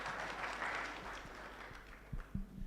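Steady clapping from a crowd at a child justice summit, a broad continuous patter with a few sharper claps near the end.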